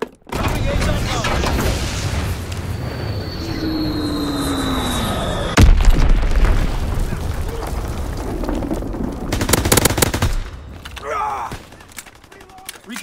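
A loud Azon bomb explosion in Call of Duty: WWII with a sharp boom and long roaring rumble. Gunfire and a descending whistle come before it, and battle noise continues after.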